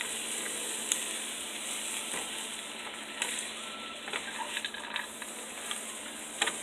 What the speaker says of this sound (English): right now you're just heating up the oils and the nuts and seeds